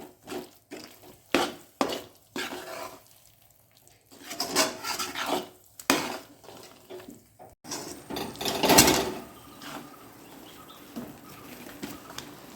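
Coconut laddoo mixture stirred in a pan over a low flame, giving intermittent scraping and rubbing strokes of a utensil against the pan, close and fairly quiet, with one louder burst of scraping midway and no talking.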